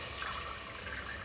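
Boiling water is poured from a kettle into a pot while cooking ghee rice, giving a continuous, fairly loud rushing splash that holds steady throughout.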